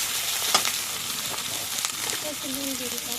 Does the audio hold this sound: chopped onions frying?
yes